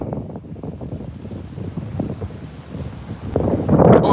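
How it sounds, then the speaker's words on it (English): Strong wind buffets the microphone on a walk through an empty park, a continuous low rumble that swells louder at the end. "that's all you can hear is wind."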